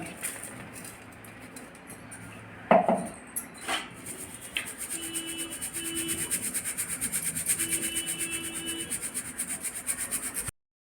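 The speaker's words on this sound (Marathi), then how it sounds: "हे आता चाळून घेऊया थोडा थोडा असा बारीक करून चाळून घ्यायचं" Ground goda masala spice powder being sifted through a sieve, giving a steady rubbing, scraping rasp that grows denser and continuous after a few sharp taps, close and fairly quiet.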